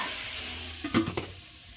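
Pork adobo with string beans cooks in a covered pot, giving a soft steady sizzle with a brief clatter of the lid or utensil near the middle.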